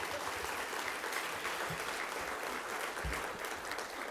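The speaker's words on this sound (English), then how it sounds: "I want you to give yourselves a round of applause for what you do each and every day." Audience applause at a human services celebration program: a continuous, fairly faint wash of many hands clapping from a distant crowd, unbroken and even for the whole stretch.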